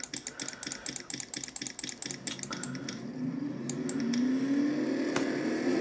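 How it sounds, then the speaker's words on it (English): Several race car engines in a NASCAR racing video game at Martinsville Speedway start up, a rapid mechanical clatter giving way to a loud, steady, rising roar that grows and holds toward the end. "Drivers, start your engines!"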